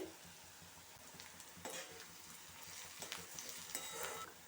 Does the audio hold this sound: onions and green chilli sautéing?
yes